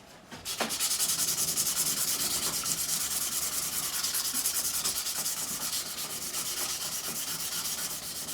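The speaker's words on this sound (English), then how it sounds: "So plenty of sandpaper now." Sandpaper rubbed back and forth over a wooden guitar fingerboard seam, a loud, continuous close scratching with fast even strokes after a brief quiet start, no voices.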